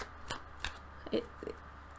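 Large tarot cards with slippery cardstock are shuffled by hand, giving a few soft, close riffling and snapping bursts over a quiet room hiss, with no talking.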